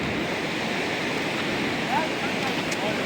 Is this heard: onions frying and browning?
no